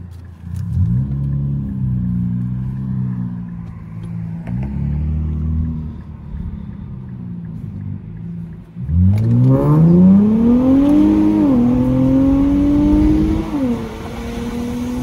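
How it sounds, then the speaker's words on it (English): An Infiniti Q50 3.0t twin-turbo in sport mode runs a 0 to 60 pull. Its exhaust drones through rising revs, drops briefly at a gear shift, then roars louder as it accelerates hard again, close and steady throughout. "I'm gonna do a 0 to 60 for you guys, and y'all gonna hear the exhaust sound too"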